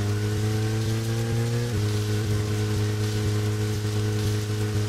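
Steady hissing rain in the video game Deadly Premonition fills the scene alongside a droning engine hum with shifting tones, continuous and fairly loud throughout.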